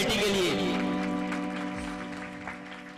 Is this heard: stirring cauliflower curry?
no